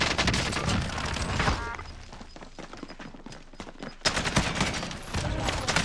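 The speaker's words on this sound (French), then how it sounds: "Fais gaffe, ça tire derrière." Video game gunfire sounds in dense, rapid bursts over loud game noise, dropping briefly to scattered shots midway before the heavy firing resumes close and loud.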